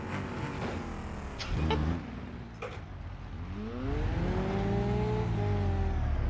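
A car engine in the BeamNG.drive driving game drones and strains without picking up speed, its steady tone rising and falling, with brief clunks from grinding gears and a rising hum toward the end.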